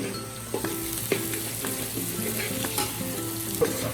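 Onions hit hot oil and fry with a loud, continuous sizzle while a spatula scrapes and stirs the pan in repeated strokes, with occasional louder clanks.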